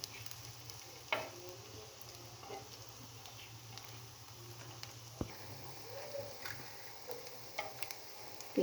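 Chicken vegetable nuggets fry in a pan with a steady low sizzle and crackle, with a few clinks and pops scattered through; no talking.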